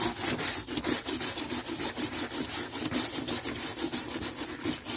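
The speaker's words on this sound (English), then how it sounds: "this is the brush I'm going to use for scraping the deck. I'm going to remove all the old paint." A stiff brush scraping old paint off a wooden deck in rhythmic back-and-forth strokes, each a coarse rasping scrub, steady and close with no voices.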